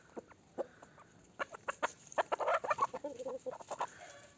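Gurk Indian hens clucking in short bursts at close range in a coop, growing busier and denser midway, with faint background hum.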